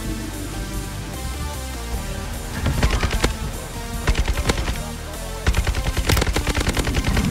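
Bursts of automatic gunfire in the Warzone video game, loud rapid rattling volleys firing in three separate strings, with a sustained game soundscape beneath them.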